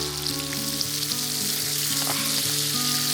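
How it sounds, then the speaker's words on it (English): Prawns sizzle steadily in hot butter with a squeeze of lemon, a close, bright crackling hiss with a faint background hum and no voices. "Oh, the sizzle."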